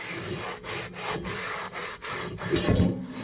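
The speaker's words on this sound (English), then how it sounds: "Alright, so I got my salt. And I'm going to try to scrape it around." A rag scrapes coarse salt around the inside of a new cast iron Dutch oven, making a series of rhythmic, gritty rubbing strokes close up, with no voices.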